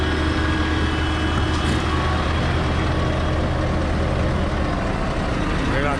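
A Scania truck unloading a Feldbinder cement tanker, its heavy diesel engine droning steadily up close and easing down toward idle, with a constant blower roar over the low rumble.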